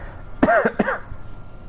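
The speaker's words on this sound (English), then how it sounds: "it must be a pain to listen to with all the coughing" Two quick, harsh coughs in close succession from a man at a microphone, loud and near, followed by quiet room noise.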